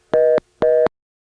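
Two short, evenly spaced beeps of a modern telephone tone from a Jefferson, Georgia phone office, clean and loud, then silence.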